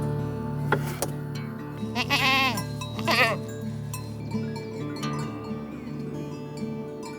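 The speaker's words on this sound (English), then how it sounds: "We made a deal with our goat friends that they can come and eat all the grass that they want" Goats bleat in wavering cries, several calls overlapping near and farther off, over steady outdoor background noise beside the stone walls of an old Italian house.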